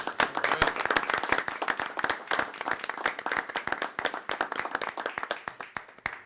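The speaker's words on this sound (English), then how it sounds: "let's give these folks a round of applause" A small group at a village board meeting claps, distinct individual hand claps in a brisk, slightly uneven patter that continues steadily at moderate volume, with no talking.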